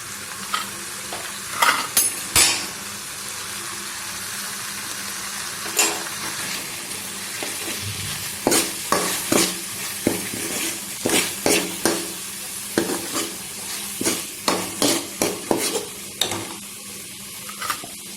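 Spice powders for an okra curry are stirred and fried in oil, a low sizzle punctuated by repeated sharp scrapes and clinks of the spoon against the pan, clustered in irregular bursts, with no talking.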